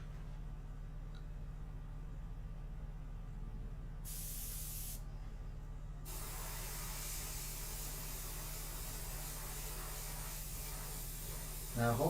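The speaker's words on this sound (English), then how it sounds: "I'm going to go ahead and spray this." Airbrush spraying India ink for a portrait painting, a steady close hiss that runs on after a brief sharper burst, over low background hum.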